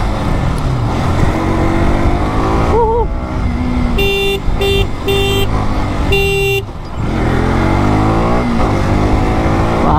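KTM superbike engine running steadily while being ridden, a loud continuous drone with rising and falling revs, with a few short horn-like tones partway through.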